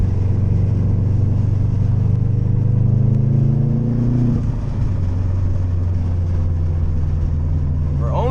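A loud Subaru WRX engine drones steadily from inside the cabin at about 50 with a window lowered, low exhaust rumble and a brief pitch drop midway as the revs shift.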